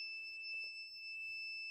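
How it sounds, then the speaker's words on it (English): A low-voltage alarm on a battery inverter, running from a silicate salt battery, sounds as a continuous shrill electronic tone with a few faint knocks beneath it. "Well, the alarm just went off. It sounds terrible."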